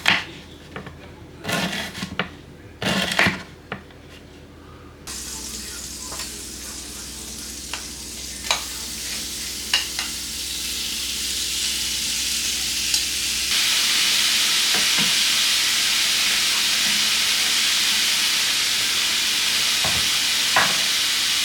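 Red onions fry in a pan, starting with a few sharp knocks and clatters, then settling into a steady close sizzle that grows louder and brighter toward the end, punctuated by occasional stirring taps.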